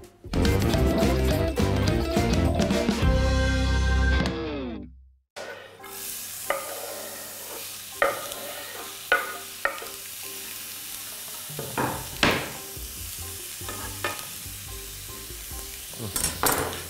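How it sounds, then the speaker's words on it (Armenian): Onions fry in a pan with a steady, close sizzle, marked by occasional sharp scrapes and knocks of stirring. A short burst of music comes first, followed by a brief silence. "Մինչ սոխը տապակվում է"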